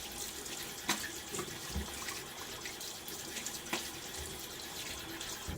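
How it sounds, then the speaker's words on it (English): Tap water runs steadily into a sink while a safety razor is rinsed under it, a close, continuous splashing hiss with a few faint knocks of the razor against the basin. "I'm going to rinse this off."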